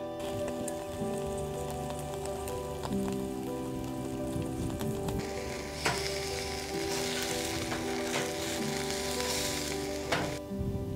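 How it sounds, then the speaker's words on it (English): Vegetables sauté in a pan at a campsite on Antelope Island, a loud steady sizzle with occasional stirring scrapes over a faint steady hum, no speech. "I'm just gonna make some sauteed veggies."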